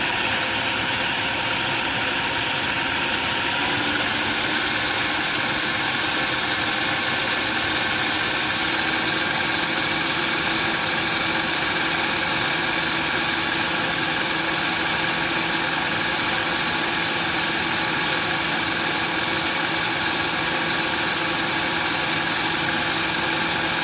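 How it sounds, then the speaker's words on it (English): A food processor pureeing bread into crumbs gives a continuous, loud motor whir with a steady hum and rattling texture that runs unbroken for the full stretch, with no speech over it. "now that I've figured out how this machine works, so now we're going to hit puree."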